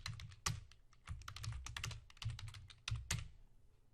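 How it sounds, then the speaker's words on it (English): Quick, uneven keystrokes on a computer keyboard, close and fairly quiet, with a few heavier key presses standing out from the steady clatter and no talking. "I'm going to type trees and shrubs"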